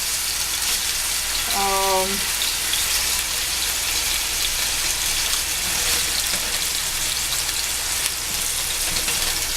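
Veal cutlets sizzle in hot oil, a steady broadband hiss filling the whole stretch at an even, fairly loud level, with a brief tonal clink near the start.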